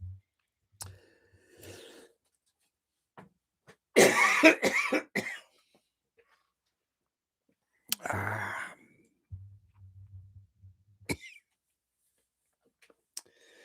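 Coughing fits from a man who has swallowed something the wrong way, with a loud burst of several coughs mid-clip and another later, separated by quiet pauses, clicks and throat noises, close up indoors.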